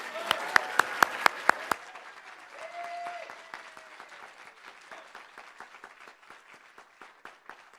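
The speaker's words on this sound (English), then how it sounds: "one last round of applause" Audience applause for student performers and their mentors at a state poetry recitation final, steady crowd clapping with a few sharp, loud nearby claps at the start, then thinning to scattered hand claps under a brief voice.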